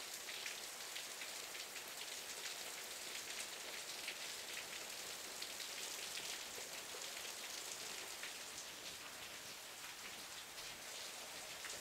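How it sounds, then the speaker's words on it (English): A sudden heavy downpour hisses steadily on surfaces near a garage, dense drops drumming evenly throughout with no voices. "Yep, that was a sudden downpour."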